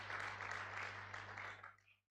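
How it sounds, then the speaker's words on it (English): A crowd at a graduation induction ceremony applauds with a dense patter of clapping over a low hum, then fades out within about two seconds. "I think she also deserves a round of applause."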